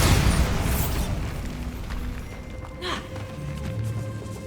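A Bombarda blasting spell goes off in the Hogwarts Legacy video game, a loud rumbling boom that starts the clip and slowly decays through a long reverberant tail inside a catacomb.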